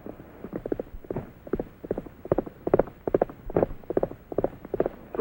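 Trigger, Roy Rogers' horse, clip-clops along in a steady rhythm of hoof strikes at moderate distance, with no talk over the hoofbeats.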